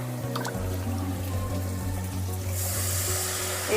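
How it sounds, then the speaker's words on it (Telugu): A continuous stream of water pours into a pot of rice and spices for pulao, rushing steadily and growing brighter near the end, with a low hum underneath. "ఇప్పుడు వాటర్ వేసేద్దాం"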